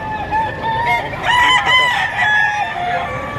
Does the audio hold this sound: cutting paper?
no